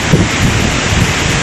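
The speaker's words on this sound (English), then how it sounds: "here's the waterfall at Gordale Scar" Waterfall at Gordale Scar on a Malham walk, a steady broadband roar outdoors, continuous and fairly loud with buffeting rumble, no voices.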